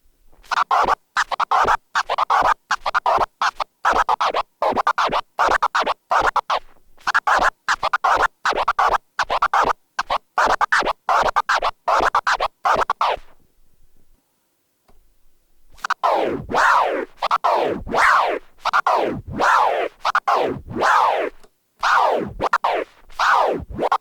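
A DJ turntable two-click flare scratch repeats in rapid choppy bursts, the record sound cut into clipped stabs in rhythm, pausing for about two seconds before the pattern resumes.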